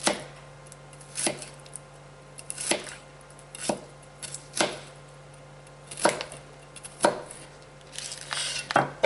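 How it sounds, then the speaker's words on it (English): Knife chopping cabbage for Asian coleslaw on a cutting board, a steady series of crisp, close thuds spaced roughly a second apart, with no talking over them. "Let's try cutting it this way"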